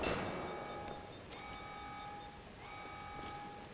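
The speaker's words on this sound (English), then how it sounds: "Come on, stop beeping." Repeated electronic beeping during a Wolfenstein: The New Order match, steady tonal beeps recurring in bursts over a noisy game background with no talk.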